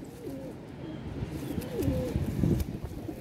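Pigeons cooing close by, several soft rolling coos repeating over a steady background murmur.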